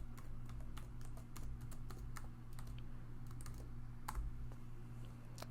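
Someone types commands on a computer keyboard. Quick, light clicks come in short bursts over a faint steady electrical hum.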